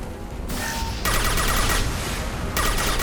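Dense gunfire crackles in a Mass Effect 2 firefight, loud and continuous with bursts swelling at intervals, rapid overlapping shots forming a sustained roar with no talk.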